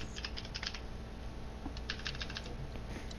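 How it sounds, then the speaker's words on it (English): Rapid keystrokes on a computer keyboard rattle along in irregular bursts, close and fairly quiet, with no one speaking. "Stop typing on your fucking keyboard."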